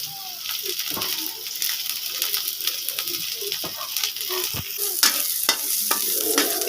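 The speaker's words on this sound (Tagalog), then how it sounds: "Gisa lang natin hanggang magpula yung bawang." Garlic and onion sauté in a hot frying pan, giving a steady, close sizzle broken by sharp scrapes and clacks of stirring, with no talking.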